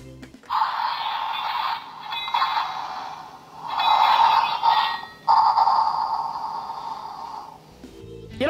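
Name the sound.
toy axe swinging sound effect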